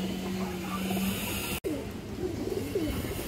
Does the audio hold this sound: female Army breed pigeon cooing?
yes